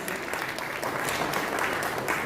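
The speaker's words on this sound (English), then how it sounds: "Big round of applause, please." An audience applauds at a company secretaries' national convention event, a steady wash of many hands clapping at moderate loudness, continuous for the whole stretch without speech.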